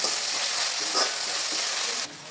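Chicken frying in a pan with onion, green chillies and coriander for a village-style Telugu chicken curry: a steady, bright sizzle close by, dropping off abruptly near the end.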